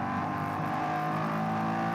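A 5.4-litre Coyote-derived Ford V8 race car roars at high revs during a Nürburgring endurance race, a loud, steady, harsh engine drone holding throughout with no break and no voices.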